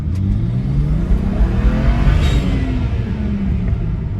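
A BMW 335i launching from a standstill with a manual clutch, the engine rumbling loudly up through rising revs inside the car, a strong steady roar with rising pitch sweeps and no talking.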